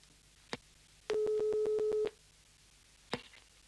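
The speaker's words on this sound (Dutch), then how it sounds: "De telefoon gaat over, inspecteur." In a radio play a telephone rings once as a rapid warbling electronic trill lasting about a second, framed by soft knocks and clicks in a quiet room.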